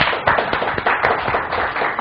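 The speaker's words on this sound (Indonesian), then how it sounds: "Kita beri tepuk tangan dulu." A seated audience claps for a university rector being introduced at a business talk, a dense burst of applause filling the room at full loudness for about two seconds, with no voices over it.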